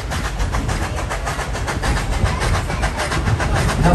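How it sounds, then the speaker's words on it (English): Steam train engine at Dollywood hauling riders up a mountain track in the Smoky Mountains, Tennessee: a steady loud rumble with rhythmic clatter from the cars throughout, no talk. "listen to the engine as she pulls us up"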